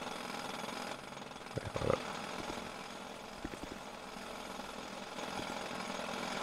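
A construction drill in GTA 5 rattles as a steady, hissing mechanical din at low volume, with a few sharper knocks standing out briefly.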